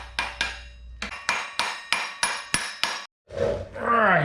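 A socket is hammered to seat a clutch pilot bearing during an S13 engine install: about nine sharp, evenly spaced metallic taps at close range, followed by a brief louder mechanical roar.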